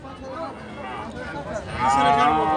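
Cattle moo at a busy cow market, a drawn-out low call rising near the end amid crowd chatter and background voices.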